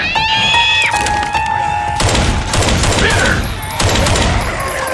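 Several guns fire at zombies in Left 4 Dead 2, loud sharp shots and bursts punctuating game effects, with a player shouting briefly over the shooting.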